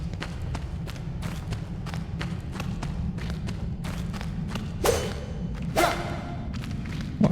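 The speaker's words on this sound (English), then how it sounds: "Spiders weak to fire, so we use our fire sword." Fire sword strikes against a spider in the video game Enshrouded, a series of rhythmic thuds and swishes from combat, with two louder whooshing impacts near the end over a low rumbling game backdrop.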